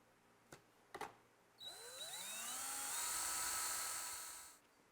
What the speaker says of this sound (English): We're going to drill the hole.